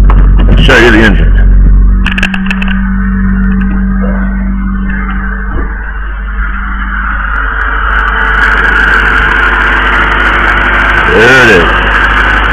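A 1991 Acura Integra idles steadily close by from the engine bay, an even low hum with a few clunks and rustles, while a voice speaks over it at times.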